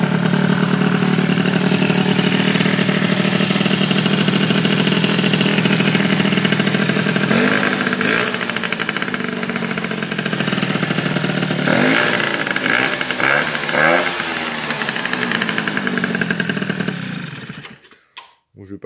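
A cold MBK 51 moped engine idles close by without choke, a steady sputtering putter that wavers slightly midway and then cuts out near the end.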